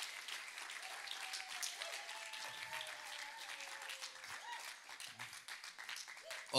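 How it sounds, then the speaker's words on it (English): Applause from an audience, a sustained wash of many hands clapping with a faint tone running underneath, fading slightly near the end. "I'd love you to give a round of applause for Izzy Riddell, Olivia Mumba, and Jacob De"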